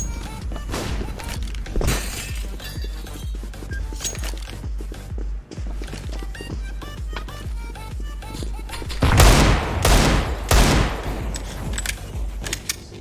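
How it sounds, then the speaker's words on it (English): Counter-Strike: Global Offensive gameplay with rapid gunfire bursts, clattering footsteps and a loud flashbang burst near the end, dense and close with a brief game voice line underneath. "Throwing flashbang."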